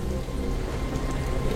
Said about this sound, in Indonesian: Hujan turun makin cepat